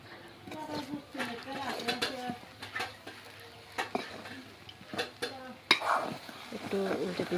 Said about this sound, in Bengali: কুচি ধনিয়া পাতাগুলো একটু মিক্স করে নিচ্ছি আর কি